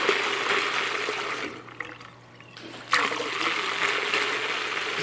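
Water rushing steadily through an opened latching solenoid valve, a continuous broadband flow with a hum underneath, briefly dropping to a quieter trickle before surging back at full strength.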